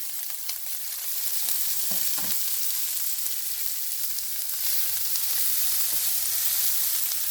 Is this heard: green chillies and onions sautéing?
yes